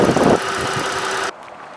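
A 2010 Ford Fusion's 3.5-liter V6 runs with a steady, loud mechanical hum that cuts off abruptly near the end, leaving a quieter background.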